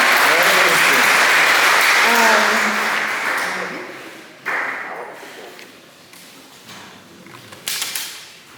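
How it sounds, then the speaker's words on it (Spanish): A congregation at a Pentecost church meeting breaks into loud applause that fades over several seconds, with voices audible over it and a few later bursts of clapping and thumps. "Un aplauso al Señor"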